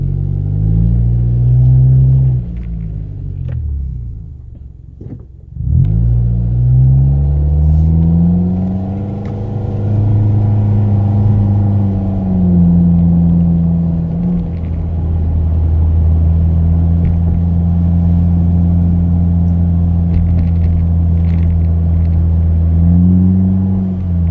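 A 2016 Mitsubishi Outlander with an upgraded exhaust rumbles while cruising in sport mode, a loud, close, deep engine drone that dips briefly, then rises and holds steady through gentle acceleration, without any talking.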